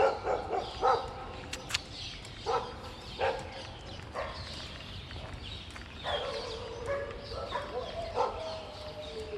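Several dogs bark noisily in a village setting, with sharp yaps and barks coming in bursts, some close and loud, others further off, with faint birdsong in between.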